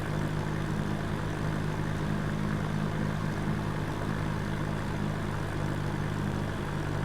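The engine of a small chartered plane on approach into Palm Springs drones steadily inside the cabin as throttle is added, a constant, fairly loud, even hum with no voices.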